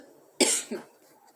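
A speaker coughs twice in a short fit, a sharp, loud first cough and a weaker second one, close and alone in a quiet room.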